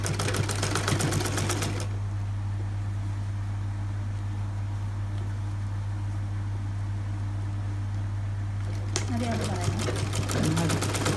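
A sewing machine stitches elastic frock fabric in two rapid, rattling bursts at the start and end, with a steady motor hum in between while someone talks over it.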